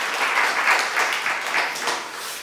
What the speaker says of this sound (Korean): 수고한 여러분들께 다시 한번 하나님 앞에서 격려의 박수를 이렇게 하도록 하십시다.